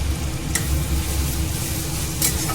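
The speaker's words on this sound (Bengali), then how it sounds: "ওইটার মধ্যে আমি এখন অর্ধেকটা সরষে দিয়ে দেবো" Ground mustard paste goes into a frying pan of spice masala made with salt, turmeric and tomato, giving a steady, close sizzle with a couple of brief sharp clicks.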